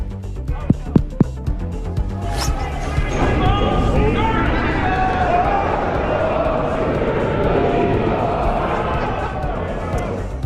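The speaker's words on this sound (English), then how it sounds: "The crowd at the Columbus Blue Jackets game belching the words of the Star-Spangled Banner" A huge crowd of hockey fans at a Columbus Blue Jackets game sings the Star-Spangled Banner together in a broad, echoing arena roar, after a few sharp thumps at the start.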